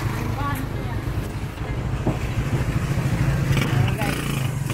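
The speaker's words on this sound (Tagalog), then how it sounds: "Ayan guys, pasakay na tayo ng tricycle." A motorized tricycle engine drones steadily and close by throughout the ride, with a low rumbling hum and road noise. People talk over it.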